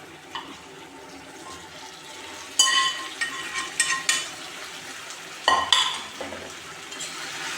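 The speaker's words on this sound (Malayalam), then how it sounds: "അതിലേക്ക് പൊരിച്ച് മാറ്റി വെച്ച ചിക്കൻ ഇട്ട് കൊടുക്കുക." Fried chicken pieces go into a hot pan and are stirred, with quiet sizzling broken by several sharp clanks and scrapes of a spoon against the pan.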